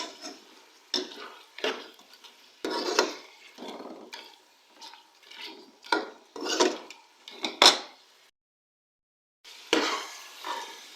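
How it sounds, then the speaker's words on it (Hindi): A spoon scrapes and clatters in a pot as beef fries with whole spices for Degi aloo gosht, the stirring coming in irregular bursts with a faint sizzle and a short silent gap near the end. "अब हम लोग गोश्त को 1 मिनट तक मज़ीद भूनेंगे ताकि खड़े मसालों का फ्लेवर भी गोश्त में आए"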